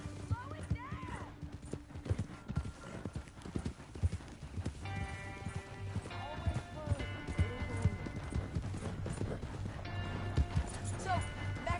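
Horse hooves clip-clop steadily on a street in Saint Denis in Red Dead Redemption 2, a continuous rhythmic trot heard under ongoing conversation, with a brief whinny near the start.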